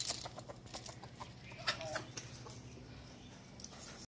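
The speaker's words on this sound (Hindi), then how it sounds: "हमारी मुर्गियाँ जब भी आती हैं यहाँ पे आके यहाँ पे खाने लग जाती हैं" Chickens cluck softly and intermittently while feeding, with faint scratching and pecking in a quiet outdoor setting.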